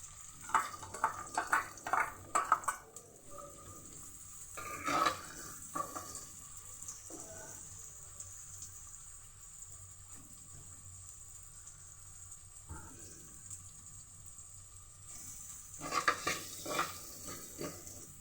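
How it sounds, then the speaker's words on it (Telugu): Thinly sliced onions and green chillies fry over crackling cumin seeds in a pan, a faint sizzle under bursts of spoon scraping and clinks at the start and end. "ఆనియన్స్ కొంచెం ఫ్రై అయ్యే వరకు ఫ్రై చేసుకుందాం"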